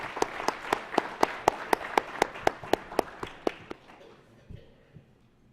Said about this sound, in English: How about a round of applause for our teams?